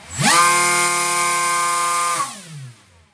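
Small RC electric motor driving a 7.5-inch three-bladed 3D printed fixed propeller: a sharp spin-up into a loud, harsh, high-pitched whine held for about two seconds, then a quick wind-down, close and alone.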